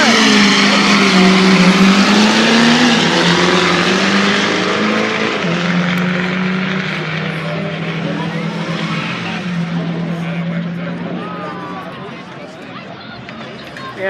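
Chevrolet Corvette drifting at night drag-and-drift event at Rocky Mountain Speedway, loud sustained engine roar and revving with tire noise, rising and falling over the run, with excited voices talking over it.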